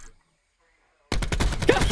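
Rapid gunfire in Call of Duty: Black Ops 4 cuts in loudly after a second of near silence, a tight burst of repeated shots close by with a voice mixed in.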